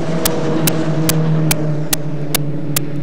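Skip Barber race car number 99, a white machine in a 1990 race, running with a steady buzzing engine drone and sharp, regularly spaced ticks cutting through at a fast, even rhythm.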